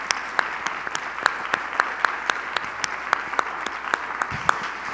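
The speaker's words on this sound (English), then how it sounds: "Please join me in giving a big round of applause to our panelists." Audience at a plenary session applauding panelists, a steady wash of clapping with individual sharp claps standing out near the listener, sustained throughout.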